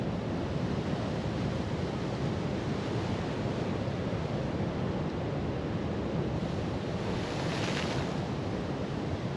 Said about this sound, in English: The swells are pretty damn big, like.